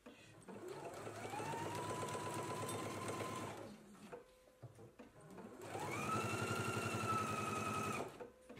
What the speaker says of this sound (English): Let's go ahead and stitch our collars together now.